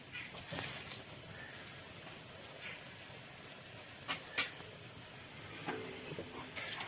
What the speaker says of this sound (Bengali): এই মাছ ভাজাটা ভাজতে আমার ত্রিশ থেকে পঁয়ত্রিশ মিনিট সময় লাগছে